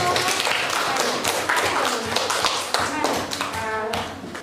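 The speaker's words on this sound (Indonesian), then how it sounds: "Kasih tepuk tangan dulu" Classroom students clapping on cue from a teacher, a brisk burst of rhythmic hand claps from a small group, fairly close, with voices mixed in and fading toward the end.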